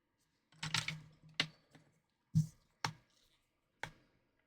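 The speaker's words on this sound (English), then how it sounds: "I'll just kind of press each button dozen or so times." Physical buttons on a blue Nintendo DSi XL handheld are pressed one at a time, giving sharp, close plastic clicks spaced irregularly with quiet gaps between them.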